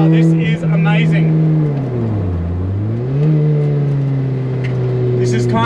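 A supercharged Lotus sports car engine drones from inside the car while driving, its pitch dipping and rising as the revs change, with a person talking over it.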